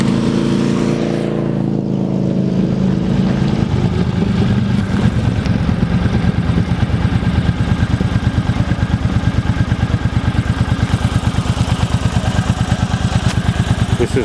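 A stock-piped 2006 Suzuki C50 Boulevard motorcycle idles close by with a steady, rapid low thumping pulse that holds evenly throughout, with no talk over it.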